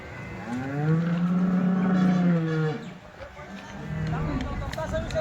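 At a cattle market, a cow lets out a long, loud moo close by, followed by another lower bellow, with faint crowd noise and talk in the background.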